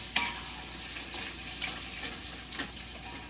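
Sausage and onion sizzle in a pan for stuffing, a soft continuous fry broken by a few light stirring scrapes; close but quiet, no talk.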